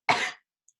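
A single short, close cough, slightly throaty, followed by silence.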